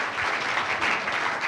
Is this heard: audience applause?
yes